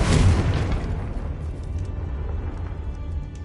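A Confringo blasting curse explodes in Hogwarts Legacy, a single loud boom at the start that decays into a rumbling, crackling tail as the blast fades.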